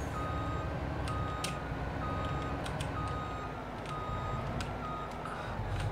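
Truck reversing beeps in the Farming Simulator 22 video game: a steady run of repeated electronic beeps in a regular rhythm over a constant low engine rumble, with no talking.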